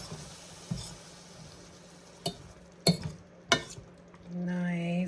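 Beef stock being stirred into a pan for sausage and mash, with a few sharp clinks of a utensil against the pan over a quiet background, ending in a steady tone.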